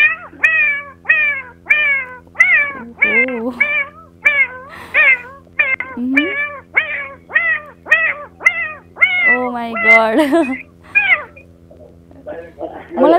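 A man imitates a cat, giving a long run of repeated meows one after another with short gaps, loud and close, with a few words spoken near the end.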